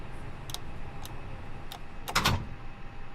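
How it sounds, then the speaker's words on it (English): Clicks and latching sounds come from a door being closed in the Airbus A320neo cockpit of Microsoft Flight Simulator, a few sharp ticks followed by a louder thud-like latch over steady cabin hum. "Close that door."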